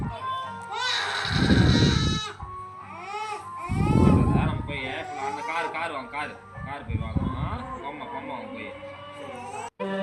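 A baby girl cries loudly during a head-shaving ritual at a crowded temple, with repeated wailing bursts and whimpers between them amid background chatter.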